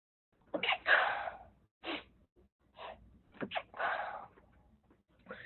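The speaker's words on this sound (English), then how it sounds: "Excuse me, I had to sneeze." A single person sneezes close by, a sharp burst followed by a few short breaths and snorts in an otherwise quiet room.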